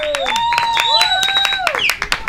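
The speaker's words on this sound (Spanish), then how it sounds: "ahí están las mamás aplaudiendo y avivando a sus ñeñex" Parents at a youth football club match clap in sharp irregular bursts while a loud, close voice talks over them, with whistling tones sweeping above the claps.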